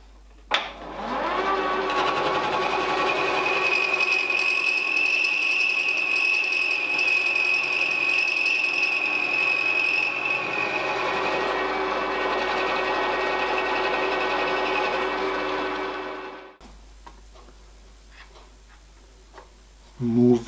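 A milling cutter takes a cut along a part clamped in a vise, giving a steady, loud, whining machine drone with a high tone for about fifteen seconds before it cuts off, leaving quieter clatter afterward.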